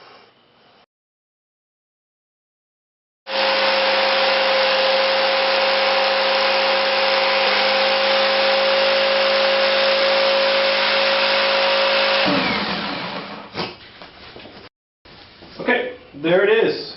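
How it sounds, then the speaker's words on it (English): A power saw cuts a large sheet of thin plywood laid on foam, with the blade kept at high speed. It starts abruptly and gives a loud, steady whining buzz for about nine seconds, then stops and leaves scraping handling noises and brief talk. "at the bottom of the stroke of the saw, the blade isn't so long that it's going to cut the table underneath"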